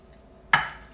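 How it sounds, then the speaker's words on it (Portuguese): Pork chops are mixed by hand with olive oil and seasonings. A single quick, wet squelch of meat being turned stands out after half a second of near quiet, then fades. "Vou mexer bem com a mão mesmo"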